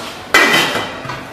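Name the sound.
lid put on pot of rice on stove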